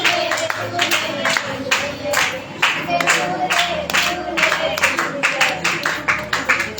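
Worship congregation clapping along to a Hindi devotional song at a live Sunday church meeting, a steady rhythmic run of claps repeating every half second or so over music and singing throughout.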